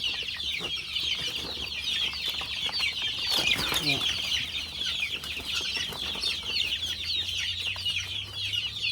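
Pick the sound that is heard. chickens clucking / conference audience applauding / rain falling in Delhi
chickens clucking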